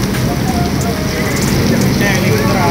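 Steady rain hisses throughout as a new Sealdah–Jalpaiguri express train sets off after a flag-off, a dense continuous patter with a low rumble beneath and faint voices in the background.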